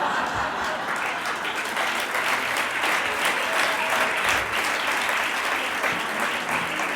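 A theatre audience gives a warm ovation as a performer walks onto the stage, dense and loud applause holding steady throughout with no pause.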